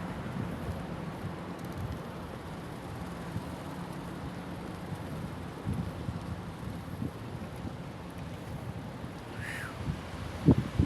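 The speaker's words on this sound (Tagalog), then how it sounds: "Mahangin." Strong wind blows outdoors as a steady, moderate rush of noise, with a brief sharp sound near the end.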